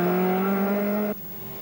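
Ford Escort rally car at speed on a tarmac spectator stage of the 1982 RAC Rally, a loud, steady high-revving engine drone that cuts off abruptly as the car passes, leaving a fainter rumble.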